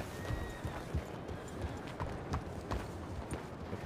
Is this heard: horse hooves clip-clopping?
yes